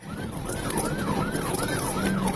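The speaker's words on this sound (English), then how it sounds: "police sirens" A police siren wails in a steady repeating rise-and-fall pattern during a stolen vehicle chase, fairly loud over the rumble of passing road traffic.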